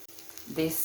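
Saltfish fritter batter hits a hot skillet and starts sizzling, the frying hiss rising in the second half of the short clip.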